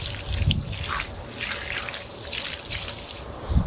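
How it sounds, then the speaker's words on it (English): Water trickles steadily while sweet potato plants in a subtropical garden are given a heavy watering, a soft continuous splashing and dribbling with a few louder drips, close and alone without talk. "Going to give these a lot of water."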